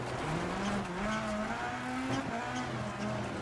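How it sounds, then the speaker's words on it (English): Rally car engine in EA Sports WRC roars loud and close throughout, revving steadily with gear shifts and occasional tire noise on a long stage. "The engine's still quite loud."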